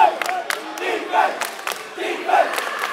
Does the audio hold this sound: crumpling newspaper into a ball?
no